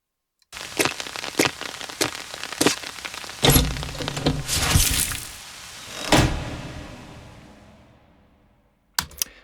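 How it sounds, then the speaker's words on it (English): Footsteps and rain-like clatter lead into a heavy door slamming shut in a hallway, its boom ringing out in a long echoing tail before fading to silence. "there's a lot of reverb on the end of that door close"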